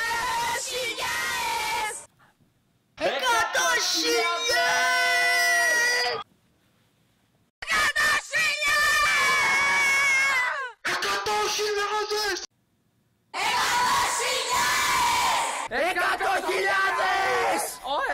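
Fans celebrating 100,000 subscribers shout and scream in loud, excited bursts. The outbursts are close and separated by abrupt stretches of silence.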